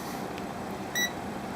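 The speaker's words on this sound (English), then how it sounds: "So you notice we've got our buzzer" A Hantek 2C42 multimeter's buzzer gives one short, clear electronic beep in diode mode, brief and isolated over a quiet background hiss.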